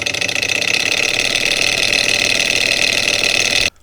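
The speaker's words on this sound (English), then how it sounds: "Start the engine." A tiny homemade engine built from a syringe and powered by 1.5 volts runs with a loud, steady rapid buzzing rattle close by, then cuts off abruptly just before the end.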